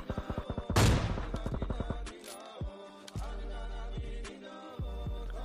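Rapid bursts of gunfire from PUBG Mobile Lite, a loud volley of evenly spaced shots opening into a heavy blast, followed by scattered single shots and sharp reports with quiet gaps between them.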